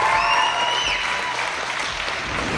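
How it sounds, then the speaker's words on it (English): Audience applause at a live quarter-final of a televised talent search, a dense steady clapping from a large crowd filling the whole moment, with a few whistles or cheers rising over it near the start. "Round of applause for the guys."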